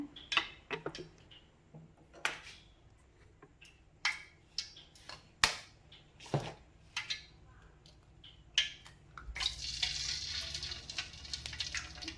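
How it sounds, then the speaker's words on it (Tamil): Three eggs are cracked one by one into hot oil for homemade fried rice, with a series of sharp, close cracks and taps followed by a loud, steady sizzle as they fry. "ஆயில் ஹீட் ஆயிடுச்சு இப்போ நம்ம முட்டை உடச்சி ஊற்றிக்கலாம்"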